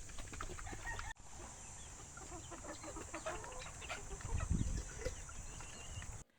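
Gamefarm chickens cluck and peck in a farmyard, with scattered soft clucks over a steady outdoor hum and a brief dropout early on.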